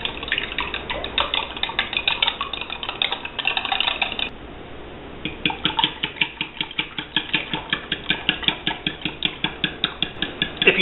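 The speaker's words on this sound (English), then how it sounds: "I'm just going to put them in here where I had the honey and beat them up a little bit." Eggs being beaten by hand in a bowl that still holds traces of honey, for honey yeast rolls: a quick, steady, close clatter of repeated light taps with a short pause partway through, with no talk.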